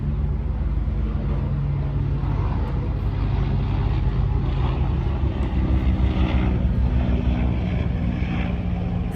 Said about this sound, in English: Just wait for the helicopter to pass by.